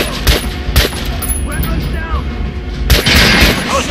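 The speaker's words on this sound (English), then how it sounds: "Try out the rest of the weapons you chose. Try shooting for the center of the regular dummies." Gunfire at training dummies on a shooting range in the video game Metro: Last Light: a few sharp, loud shots spaced apart, over a steady background with some voice present.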